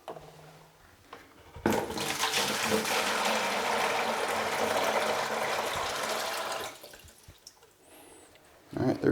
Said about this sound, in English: I'm going to go ahead and put it in our slip bucket.